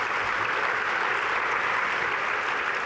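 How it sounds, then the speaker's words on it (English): Loud, dense audience applause at an education awards presentation ceremony, a continuous wash of many hands clapping at a steady level for the whole stretch. "Can we give them another round of applause,"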